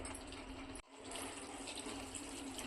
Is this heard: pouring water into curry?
yes